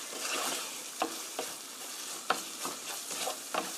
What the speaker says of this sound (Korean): 고추장 소스는 이렇게 해서 2미닛 2분간만 볶으면 돼요